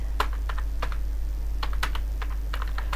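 Rapid keystrokes on a computer keyboard while code is entered in a C program, coming as irregular clusters of crisp clicks over a steady low hum, close and fairly loud.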